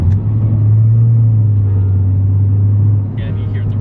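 A Subaru BRZ's exhaust rumbles low and steady, with the engine held near a constant idle-like drone that eases slightly toward the end; no talk is heard over it.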